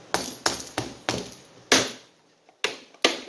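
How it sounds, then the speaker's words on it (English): Hammer taps on a part of a Titan 440 airless paint sprayer: six sharp metallic strikes, close and loud, arriving in an uneven rhythm with a short pause before the last two. "I usually tap it with a hammer."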